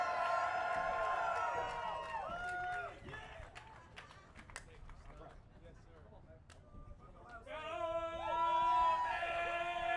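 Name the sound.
crowd cheering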